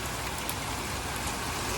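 Pouring rain mixed with hail coming down over a garden in July, a dense, steady hiss of drops close by that runs unbroken for the whole stretch, with no voices.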